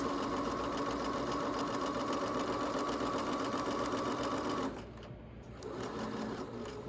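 A sewing machine runs a continuous seam on a zipper bag, whirring at a steady close pace. It halts briefly for a moment, then starts stitching again.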